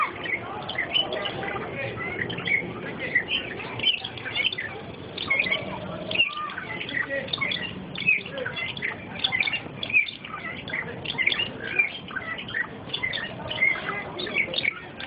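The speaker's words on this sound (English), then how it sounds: "This has got to be a female bird." A bird chirps repeatedly in rapid, high tweets throughout, fairly close over a constant noisy background, with a person talking at times.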